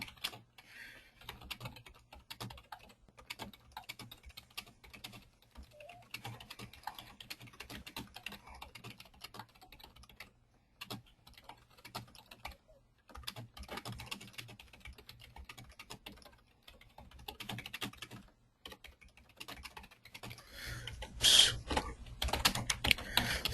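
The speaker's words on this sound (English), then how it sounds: "So you have to excuse my typing." Rapid, uneven clatter of typing on a computer keyboard during a weekly online Q&A session, fairly quiet and close, running in bursts and pauses with no talking, growing louder near the end.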